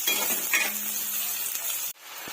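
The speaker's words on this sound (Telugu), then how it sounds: "ఆనియన్స్ ఫ్రై చేసుకుంటానండి." Sliced onions frying in a pan for dry chicken fry, a steady hissing sizzle close by, ending in a sudden cut to a softer, different sound, no talking.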